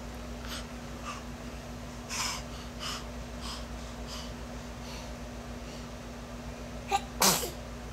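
A single loud, close sneeze bursts out near the end after quiet breathing and faint rustling.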